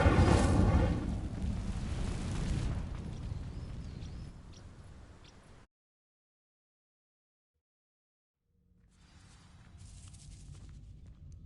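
A burst of magical fire from the Incendio spell catching dry vines in Hogwarts Legacy, a loud roaring whoosh and crackle for several seconds, then a cut to silence before softer ambient game sound returns.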